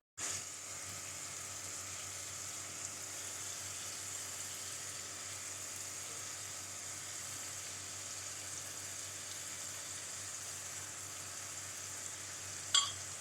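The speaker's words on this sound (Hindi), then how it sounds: "अब हम इसको 3 से 4 minute medium to high flame पर फ्राई करेंगे" Chicken tikka fries in a pan over medium to high flame, giving a steady, quiet hiss and sizzle that runs unchanged throughout, with a faint clink near the end.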